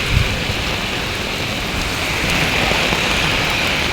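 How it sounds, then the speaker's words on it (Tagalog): Heavy rain pours down outdoors, a dense, loud, continuous hiss of drops pelting surfaces at close range, steady for the whole stretch with no voices. "Grabe talaga. Ang lakas ng ulan."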